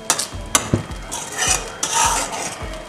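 A spoon stirs makhana kheer in a pan, making rhythmic scraping strokes with a few sharp clinks of metal against the pan. The sound is close and moderately loud, with no voices.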